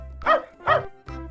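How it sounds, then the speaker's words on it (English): A dog barks twice in quick succession, loud and close, then gives a shorter third yelp, with no talking. "Dog."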